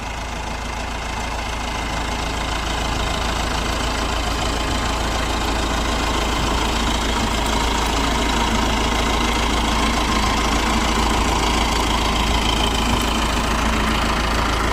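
Tractor engine idling between rows of a pomegranate orchard, a steady low rumble with mild knocking that holds even and close for the whole stretch, no voices.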